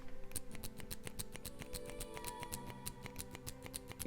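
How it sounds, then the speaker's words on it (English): A metal mechanical pencil's clicker is pressed in rapid, steady, faint clicks, a quiet close ticking repeated many times without pause. "So that's the clicker."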